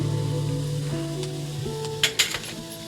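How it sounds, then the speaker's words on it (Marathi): Onion dropped into a hot pan, a soft continuous sizzle under a low hum, then a few sharp clinks of a utensil on the pan near the end. "कांदा भाजण्यासाठी टाकणार आहोत"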